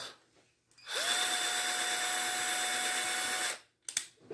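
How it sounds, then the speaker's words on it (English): A power drill whines steadily at close range for about two and a half seconds, drilling into a 3D-printed Super Mario statue, starting and stopping abruptly with a sustained high pitch. "I think I know exactly where I got to drill it now"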